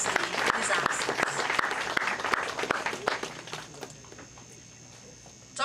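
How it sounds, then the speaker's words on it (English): Applause from the audience at an evening event honoring a prime minister, dense clapping that fades after about four seconds into quieter room noise. "Let's have a round of applause for the Honorable Carl Hastie in his absence."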